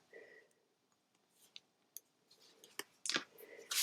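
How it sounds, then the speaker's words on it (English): Pieces of tape being peeled and picked off a cardstock treat box, giving scattered faint clicks and crinkly tearing snaps that grow louder and denser toward the end, close up and quiet, with no talking. "I'm just going to go ahead and remove all those pieces of tape if I can."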